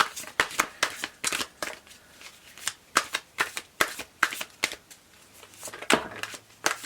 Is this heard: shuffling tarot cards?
yes